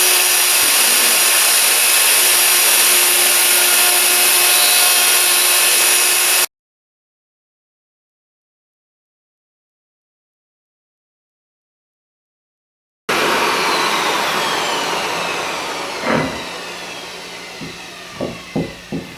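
A router cuts into a wooden poker table top, a loud sustained whine with a sudden gap of silence, then resumes and fades into a few sharp knocks near the end.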